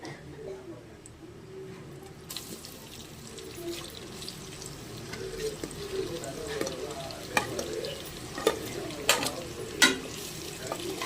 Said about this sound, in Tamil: அடுத்து வெங்காயம் போட்டுக்கலாம்.